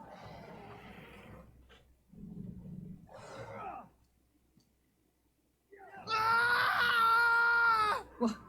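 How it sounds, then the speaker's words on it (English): Man's scream in the video game Thronebreaker, a loud, drawn-out harsh cry of about two seconds that comes near the end after quieter game sounds and a pause. "A scream. A man's, I think."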